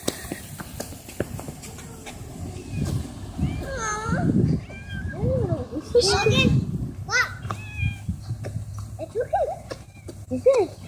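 A cat meows outdoors in wet weather, several short mewing calls scattered amid children's chatter and background voices.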